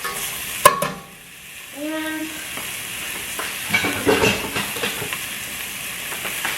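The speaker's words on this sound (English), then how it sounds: "onions and garlic. Just sort of set them around a little bit" Onions and garlic frying in a pan, a soft sizzle with a few clanks and stirring scrapes, steady and close, with no one talking.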